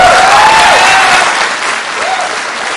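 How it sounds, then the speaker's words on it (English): Loud, full audience applause fills a Utah gubernatorial debate hall during the Herbert–Weinholtz debate. A close voice speaks over the thick clapping, which eases slightly but continues throughout. "we ask you to please refrain from any applauding during the debate"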